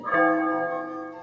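A single stroke of the heaviest church bell tolling a death knell, a traditional Spanish funeral toll announcing a man's death, rings out clear and close, its metallic hum sustaining and slowly fading.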